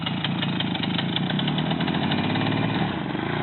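Small Romet motorcycle engine runs steadily on a first practice ride, a close, continuous mid-pitched buzzing putter with faint rises in revs.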